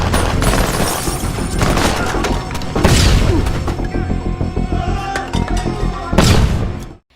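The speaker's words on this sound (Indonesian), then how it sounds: "Dengan sebuah bom kejut" A stun grenade blast and rattling gunfire in an action video game, a loud continuous barrage of booms and shots with heavier bursts recurring throughout before cutting off abruptly at the end.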